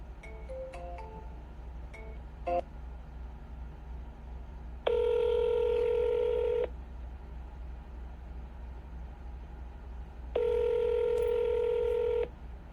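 Telephone dialing during cold calls: a quick string of touch-tone beeps, then two long, loud ringback tones separated by a pause, with a steady low hum underneath and no talk.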